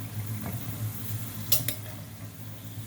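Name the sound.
frying in hot oil for eggplant recipe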